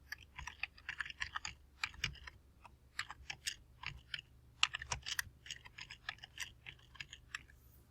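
Fingers type quickly on a computer keyboard, close and fairly quiet, in steady bursts of clicks with brief pauses and no voices.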